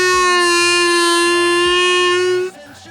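A loud, close harmonica draw note is held for a few seconds, ending as the pitch dips and shifts, with no talking over it.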